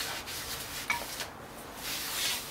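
A rag rubs over a car's rear brake rotor, wiping away its oily film, with a steady, close, soft scrubbing sound that swells and eases in gentle strokes; the car is a Pontiac G8 GT.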